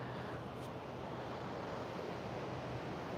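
Ocean waves along an oceanfront, a continuous broad wash of surf and wind rushing steadily without pause, fairly soft and even, with no voices.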